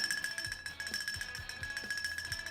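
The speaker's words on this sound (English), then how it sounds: "We're going to ring the bell again." Handbell rung rapidly and repeatedly to mark a prime lap at a men's novice criterium bike race, a bright metallic clanging held steady throughout at moderate distance.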